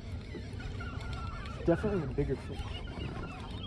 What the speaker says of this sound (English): those birds are just going ballistic